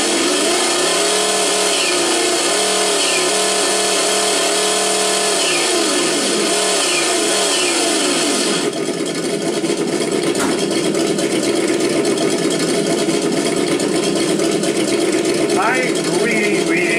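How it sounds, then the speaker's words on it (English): A V8 big block engine in a Mad Max police car revs with rising and falling pitch, then settles into a steady, loud idle close by. "And I have, of course, a V8 big block engine."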